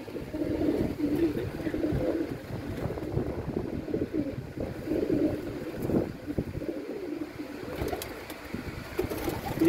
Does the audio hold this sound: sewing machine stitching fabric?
no